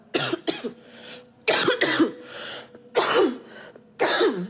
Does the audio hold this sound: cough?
yes